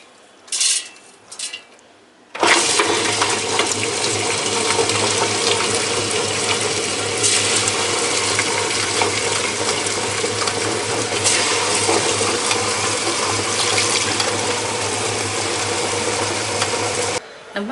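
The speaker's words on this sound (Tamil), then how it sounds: "தண்ணி விட்டுக்கலாம்." Water flows steadily into a grinder while appam batter of rice, urad dal, flattened rice and sago is ground, a loud continuous rushing wash beginning abruptly after a moment of quiet and running unbroken to the end.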